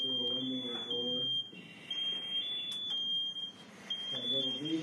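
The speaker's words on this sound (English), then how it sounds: "That little beeping is coming from the unit, so let you know it's about ready." A firefighting unit beeps to signal it is nearly ready in a training demonstration of a low fire. The alarm-like tone is high, steady and sustained, heard over someone talking nearby.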